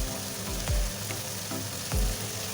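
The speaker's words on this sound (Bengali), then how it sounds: "সব ভাজছি।" Cauliflower and potato fry in a pan for a dalna, giving a soft steady sizzle broken by a few thumping stirs.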